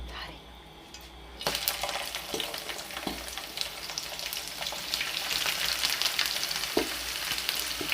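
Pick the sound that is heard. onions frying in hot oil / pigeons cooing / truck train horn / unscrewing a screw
onions frying in hot oil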